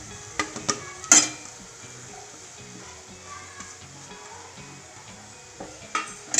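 Crumbled leftover chapati tipped into a hot pan, giving a low steady sizzle with a few sharp clanks of a spoon or spatula against the metal near the start and end.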